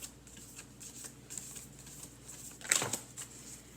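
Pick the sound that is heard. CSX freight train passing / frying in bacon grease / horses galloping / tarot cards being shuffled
tarot cards being shuffled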